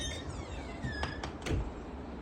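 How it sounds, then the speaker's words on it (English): Gusty wind on a blustery day, rushing broadband noise with swelling low rumble pulses and a few faint creaks, steady and fairly close, with no talk. "I think that's just wind that you're hearing"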